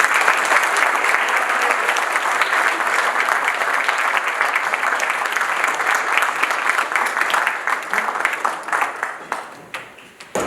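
Sustained applause from a business association audience in Croydon, dense and steady for about ten seconds before thinning and tapering off near the end.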